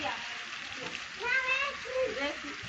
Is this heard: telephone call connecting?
no